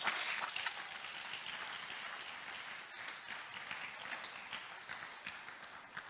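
Church congregation applauding at a Portuguese-language service, a dense steady wash of many hands clapping, moderately distant and fairly faint, with no speech over it.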